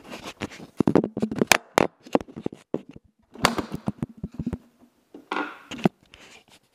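An Xbox 360 Slim console casing is pried open by hand, producing a run of sharp plastic clicks and snaps with short handling rustles in between, close and fairly quiet.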